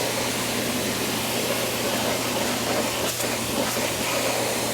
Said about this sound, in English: we're just gonna blast these with the pressure washer